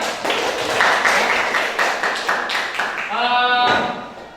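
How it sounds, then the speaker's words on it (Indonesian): Students in an Indonesian-language class break into a few seconds of brisk clapping for everyone. The applause gives way to a voice speaking near the end. "Baik, tepuk tangan dulu buat semuanya."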